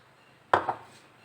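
A knife cuts through a layered cake into slices. Two quick, soft knocks land close together, the second fainter, against a quiet background.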